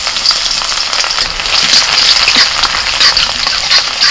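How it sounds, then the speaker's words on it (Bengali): Chopped garlic fries in white oil in a wok, giving a steady, close, bright sizzle with soft crackles that holds evenly throughout, no voices. "কড়াইতে আবার সাদা তেল দিয়ে দিয়েছি, সাদা তেল দিয়ে আমি রাইসটা বানাবো। এর মধ্যে দিয়ে দিচ্ছি রসুন কুচি।"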